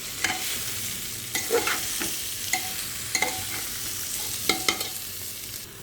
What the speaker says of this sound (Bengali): ডাল চাল মিশানোটা দিয়ে দেবো। তো এটাকে ভালো করে একটু ভাজা করে নিতে হবে